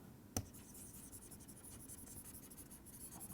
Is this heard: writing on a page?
yes